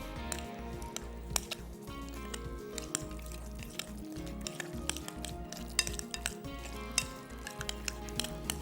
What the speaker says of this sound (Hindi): अब इसको हमने अच्छे तरीके से मिक्स करना है